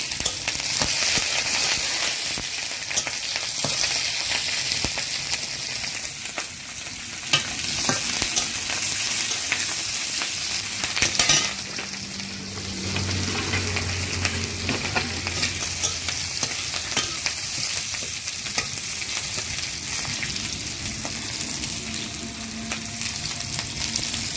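Chopped chili fries in hot oil with a dense, continuous crackling sizzle that stays loud and close throughout, with a brief dip partway through.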